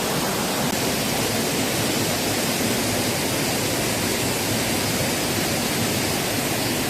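Fast, swollen stream water rushes through a forest valley near a waterfall outside Seoul after rain, a loud, unbroken roar that fills the whole clip.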